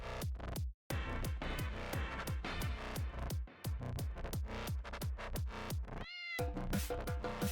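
A cat meows again and again in a video game, each short call up close and loud, over a steady run of rhythmic game music with one brief gap.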